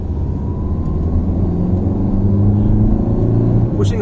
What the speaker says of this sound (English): Pushing all the way up to 3500 RPM